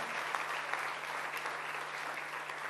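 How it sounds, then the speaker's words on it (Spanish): A church congregation in Argentina applauds steadily, dense clapping filling the whole stretch at an even, moderately loud level without a break. "Vamos, denle fuerte ese aplauso al Señor"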